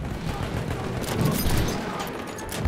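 Gunshots in an Xbox video game, a rapid volley of sharp reports rising to a louder burst midway and trailing off into scattered firing.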